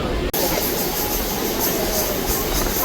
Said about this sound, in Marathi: ही जी ट्रेन आहे ती बांद्रा महुआ एक्सप्रेस आहे.